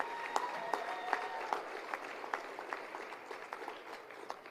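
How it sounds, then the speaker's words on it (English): An audience at a township economy awards ceremony in 2024 applauds the winners with a continuous patter of claps. The sound is fairly faint and distant and tapers off toward the end. "Let's give them a massive round of applause."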